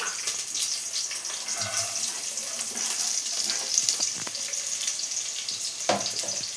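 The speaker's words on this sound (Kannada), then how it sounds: "ಚೆನ್ನಾಗೆ ಫ್ರೈ ಮಾಡ್ಕೊಳ್ಳೋಣ" Chopped onion and garlic sizzle steadily in hot oil in a pan, a continuous close crackling hiss with occasional louder pops and spatters.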